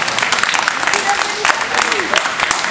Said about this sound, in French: Un tonnerre d'applaudissements pour cette magnifique réalisation.